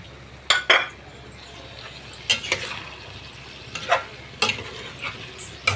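Chicken liver and gizzard with tomato paste and Sprite are stirred in a pan over a soft sizzle, with several distinct clanks and scrapes of the utensil against the pan at irregular intervals.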